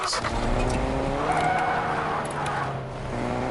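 Taxi car driven in Fortnite, with a steady engine drone and rolling tire noise, loud and continuous throughout, with slight shifts in pitch as it accelerates and turns.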